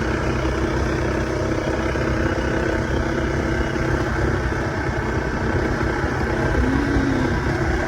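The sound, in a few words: motorcycle engine running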